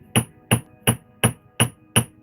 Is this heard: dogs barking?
no